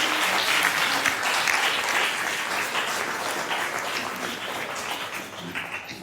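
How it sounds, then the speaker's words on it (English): Audience applause at a community theatre gathering after a scene ends, a steady dense round of clapping from a group that holds even throughout, with no talk over it. "Round of applause for Christy."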